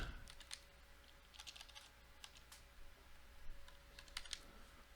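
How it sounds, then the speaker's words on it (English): Typing on a computer keyboard, a steady run of light, close key taps in uneven bursts over a faint constant electrical hum, with no talking. "So you just type CMD and click on command prompt."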